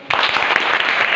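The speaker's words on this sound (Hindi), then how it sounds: "वेरी गुड, बजाओ ताली।" Students in a classroom break into a short, loud burst of clapping that lasts about a second, close and dense.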